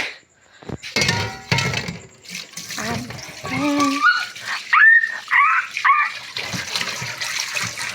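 A dog makes short vocal sounds, whines and yips, close by, with people talking and splashing water in the background.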